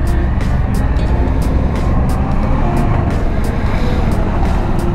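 Dense night-time road traffic on a highway route from Quezon City toward Aurora and Isabela, a steady loud rumble of engines heard from inside a vehicle, with no talk over it.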